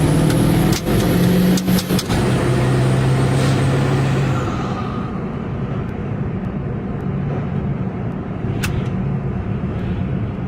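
A Ford Super Duty truck with an E40D/4R100 transmission pulls away gently in first gear, its engine a steady close rumble that settles into a lower, duller drone after a few seconds, with a brief whine early on.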